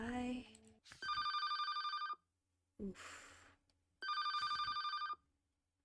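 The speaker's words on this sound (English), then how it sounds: "the moment I heard the ringtone, I remembered the name of the device that made that sound" A phone ringtone goes off in an anime visual novel game in two bright, pulsing bursts separated by a short gap, along with game music and a brief vocal exclamation.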